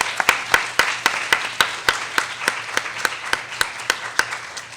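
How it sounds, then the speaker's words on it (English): A small audience gives a round of applause for a veterinarian panel at a conference, sparse rhythmic claps standing out sharply, fairly close, with a faint steady hum underneath. "I want to give another round of applause for our Uncommon Veterinarian panel."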